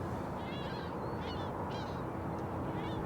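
Gulls calling over a river, a few faint, scattered cries heard at a distance over a constant hiss of flowing water.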